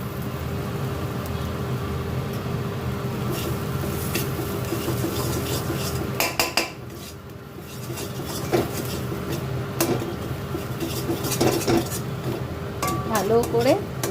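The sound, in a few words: stirring ground spice paste in a kadai (wok)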